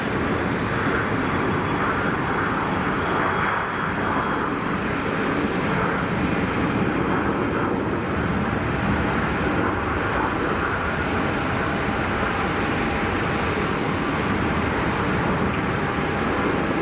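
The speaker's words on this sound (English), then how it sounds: "Citation, intersection departure rolling." A Cessna Citation business jet on an intersection departure takeoff roll at Geneva Airport, a loud, steady broadband roar of jet engines that stays dense and unbroken throughout, with no voices.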